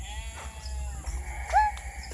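A sheep bleats once, close by, at a bird and animal park, its wavering cry rising over a low background rumble, with a few faint calls from other birds around it.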